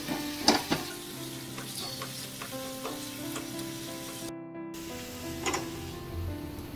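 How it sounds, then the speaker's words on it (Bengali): Onion and ginger paste sizzles and fries in a pan while being stirred, a steady close hiss broken by scraping stir strokes, with no talk. "এখন পেঁয়াজ আর আদা বাটাটা খুব ভালো করে কষিয়ে নেব।"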